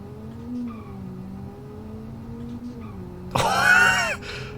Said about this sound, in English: the engine sounds amazing as well